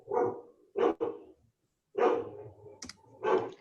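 A dog barks several times in short, sharp bursts with pauses between them, close and fairly loud, during an online class meeting. There is no clear talking over the barks.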